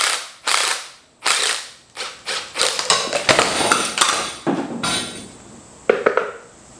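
Spring compressors are tightened down on a car strut with a ratchet, a series of sharp, close clicking bursts in uneven rhythm, some spaced apart and others in quick runs, with no talking.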